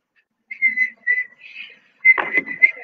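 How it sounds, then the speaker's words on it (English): A boy whistles a few short soft notes in a loose rhythm, then a slightly longer run of notes, clear and close with silence between phrases. "Whistling of a boy."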